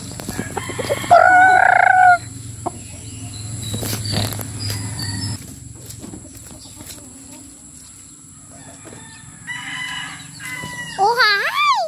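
Chickens cluck and a rooster crows nearby, with small children's voices chattering and calling over the birds, plus a high squeal near the end.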